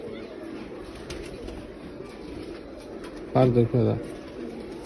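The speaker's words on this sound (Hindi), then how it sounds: "एक और प्योर रामपुरी कबूतर है" A pure Rampuri pigeon gives two short, close coos in quick succession near the end, over faint background noise, while someone speaks briefly before them.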